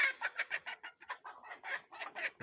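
A steady series of close, rhythmic clucks from young Hisex Brown chickens in an enclosure, about four per second, with no other sounds.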